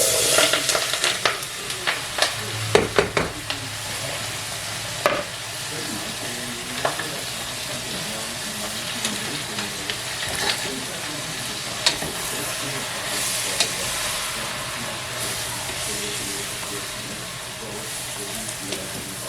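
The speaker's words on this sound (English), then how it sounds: "We're not going to saute it too long," Vegetables for chicken noodle soup sauté in a hot pan with a steady, continuous sizzle, punctuated early by a few clattering stirs and scrapes, close and without talk.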